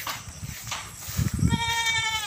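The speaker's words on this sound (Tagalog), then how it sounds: "umiid ang kambing ni Kunsel Ricky." A goat at a backyard farm pen, the morning after heavy rain, lets out a loud, close wavering bleat near the end, with lower animal noises and rustling just before it.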